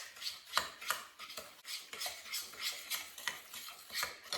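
Cake batter of sugar and salt being mixed in a bowl, a steady run of soft scraping and stirring strokes about twice a second, close and fairly quiet, with no talk.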